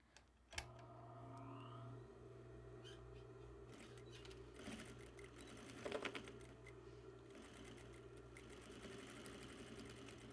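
A sewing machine stitches back and forth across a jumbo welt braided tieback, giving a quiet, continuous rapid clatter over a low hum for about ten seconds.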